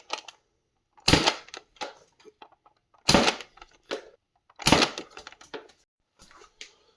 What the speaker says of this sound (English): now let's try a Supermaxx 5000 rocket